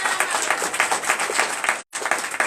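Enthusiastic applause from a church congregation honoring Jesus during a testimony service in Comè, Benin, steady dense clapping that breaks for a brief instant near the end, then picks up again.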